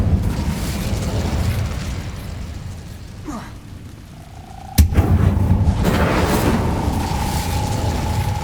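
A fiery Incendio spell blast in Hogwarts Legacy erupts with a sharp, loud burst and then rolls into a sustained roaring rumble over a low, busy game soundscape.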